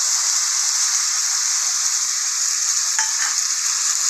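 Soaked ground spices sizzle loudly and steadily in a hot pan, a dense continuous hiss with a brief clatter of stirring near the end.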